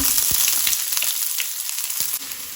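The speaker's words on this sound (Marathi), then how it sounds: "कांदो मातसो बरो तळसून घेवया।" Chopped onion frying in hot oil with mustard seeds and green chillies crackles in a loud, steady sizzle close by, dotted with small pops.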